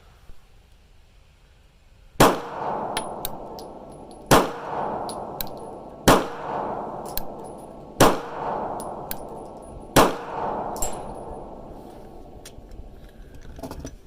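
Five loud pistol shots from a Beretta APX firing Fiocchi target ammunition, spaced about two seconds apart, each with a sharp crack and a ringing tail at an outdoor range, with no talking.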